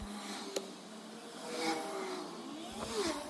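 Cars pass along a city street, sped up, behind an outdoor painting session: a steady low traffic hum with a couple of engines swelling and fading past, moderately distant and fairly quiet.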